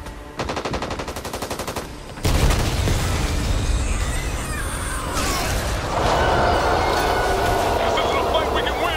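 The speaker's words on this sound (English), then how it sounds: "Pipe bomb here." A pipe bomb explodes in the shooter game Back 4 Blood, a loud broadband blast cutting in after rapid gunfire and leaving a sustained roaring rumble with scattered combat noise.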